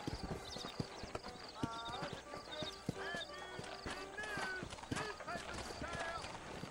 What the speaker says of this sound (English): let's mount up and hit the trail